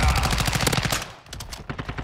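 Rapid automatic gunfire in Modern Warfare 2, a fast run of loud repeated shots that breaks off briefly, then returns as a few sparser bursts.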